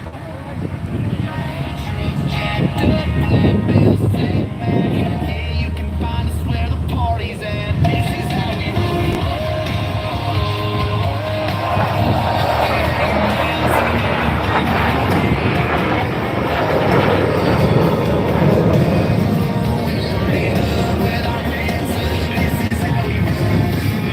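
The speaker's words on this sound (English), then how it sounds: "Watching now as Toro shows you just how exceptional the F-16 is in a 9G turn." An F-16 fighter jet roars steadily in a 9G turn during an air show display, a loud, sustained jet rumble, with a faint announcer's voice in the background.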